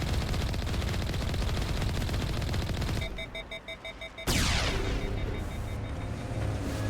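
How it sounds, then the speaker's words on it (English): Rapid automatic gunfire from the Mass Effect video game, dense sustained bursts that drop briefly to a quieter pulsing patter before a loud blast and more firing, close and continuous with no talking. "It still counts as shooting it."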